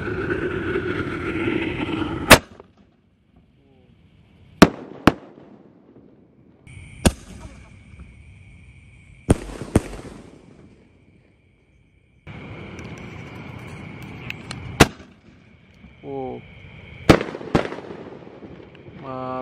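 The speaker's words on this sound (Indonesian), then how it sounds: "kita nyalakan peluru pelontar Basoka Roman candle double" Double Roman candle bazooka fireworks launching shots one after another: a series of sharp, loud pops spaced a couple of seconds apart, with hissing and crackling between them and near the end.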